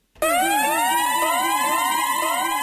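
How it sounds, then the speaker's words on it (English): A loud wailing siren with a rapid, warbling pitch sweep, close and continuous, cycling quickly up and down without pause. "So I've loaded in this super cool siren."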